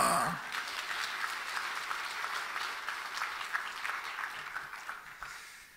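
A church congregation claps together in sustained applause during an evening worship service, loud at first and slowly tapering off, with no talking over it.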